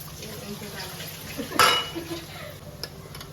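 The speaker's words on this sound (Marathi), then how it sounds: "आणि मिक्स करून घेते." Tomato and other ingredients stirred in a pan, a quiet bed of light scraping topped by one sharp metallic clatter midway and a faint clink later.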